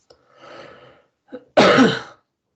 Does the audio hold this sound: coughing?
yes